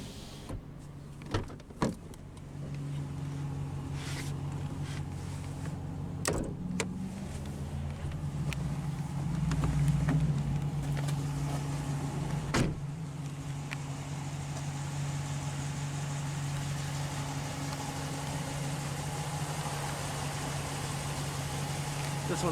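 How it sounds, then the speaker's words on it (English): Power windows whir down on a 2016 Ram 1500 ST Regular Cab pickup with a 5.7 Hemi, a steady electric motor drone lasting many seconds over the idling engine, with short clicks near the start. "let's go ahead and roll down the driver's window"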